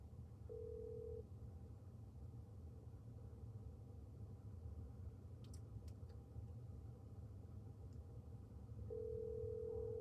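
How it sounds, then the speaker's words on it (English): A phone call placed through BMW CarPlay sounds as a steady electronic ringback tone, pulsing briefly near the start and again at the end over a low, constant car-interior hum, with faint clicks in between. "I'm calling my house"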